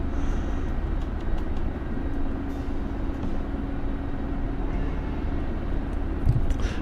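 Steady low drone of an aircraft engine building for a runway takeoff in a flight simulator game, set in winter, a continuous rumble at even loudness with no talking.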